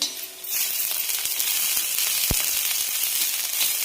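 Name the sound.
onion, ginger and garlic sautéing in a pan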